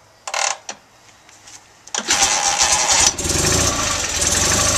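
A 1965 BMW R69S motorcycle gets a couple of sharp kick-through thumps, then its engine catches and settles into a steady, smooth running note, close and loud.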